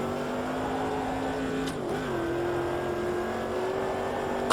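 Race car engine in Automobilista 2, a Corvette racing against a Porsche RSR, holding a steady loud drone that dips briefly as the throttle eases, then settles back to a sustained tone.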